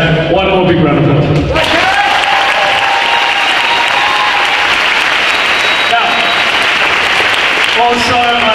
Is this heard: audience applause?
yes